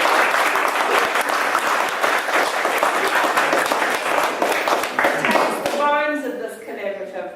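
An audience at an arts launch event bursts into sustained applause, dense steady clapping from many hands that fades out near the end as a voice begins to speak.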